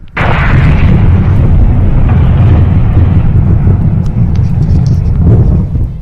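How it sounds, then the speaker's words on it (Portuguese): A small asteroid fragment hitting the atmosphere: a sudden loud roaring boom erupts and sustains as a heavy, rumbling blast for several seconds before easing off. "o barulho que se faz quando um pequeno fragmento de asteroide atinge a nossa atmosfera"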